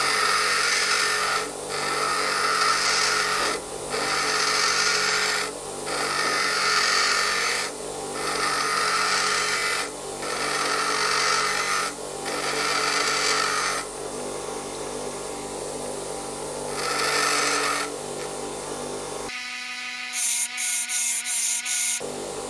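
A grinding tool rasps in repeated strokes of about two seconds with brief gaps between, steady and close, as a lathe tool bit is ground into a 45-degree chamfer tool, ending with a higher whirring whine.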